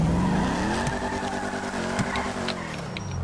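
A Hotknife car in GTA 5 Online drives and skids, its engine droning steadily while tires squeal in a long continuous screech, loud and close with no talking.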